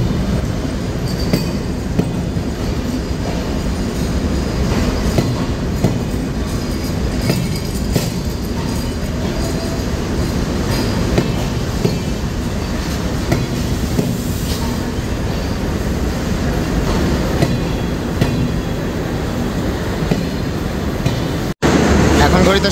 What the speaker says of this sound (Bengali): ট্রেনটির সিগন্যাল কিন্তু হয়ে গিয়েছে, অর্থাৎ নির্ধারিত সময় থেকে ট্রেনটি কিন্তু 5 মিনিট বিলম্বে ঢাকা কমলাপুর রেল স্টেশন ছেড়ে যাচ্ছে।